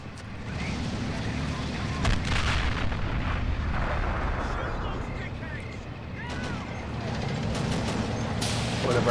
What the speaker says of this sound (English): Thankfully, our mortar crew has opened up.